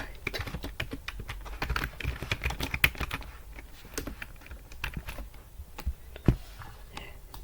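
Typing on a computer keyboard while writing HTML code, a steady patter of close, crisp keystrokes with short pauses and a faint voice now and then underneath.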